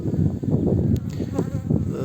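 Close, continuous buzzing of honeybees humming around a hive, a dense low drone with no talking.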